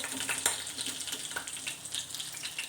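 Half a spoon of cumin seeds tempering in hot oil for an egg bhurji gives a soft, steady crackle and sizzle with scattered sharper pops, fairly quiet and close, with no voices.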